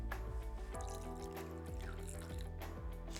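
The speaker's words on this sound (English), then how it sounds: "add a little bit of this cooled milk into our yogurt and give it a nice stir" Cooled milk trickles into yogurt in a Thermomix bowl, a faint gurgling pour with soft liquid splashes and clinks, close by and without speech.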